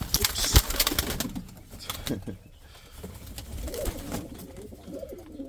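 Indian fantail pigeons coo softly in a breeding loft, with low, repeated coos and some rustling and shuffling close by, while a person speaks intermittently.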